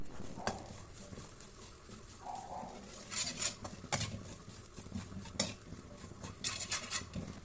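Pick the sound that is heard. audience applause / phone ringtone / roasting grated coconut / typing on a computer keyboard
roasting grated coconut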